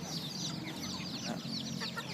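Many fighting-breed chickens and newly hatched chicks clucking and chirping together in a continuous busy chorus, like a crowded coop, with no talking.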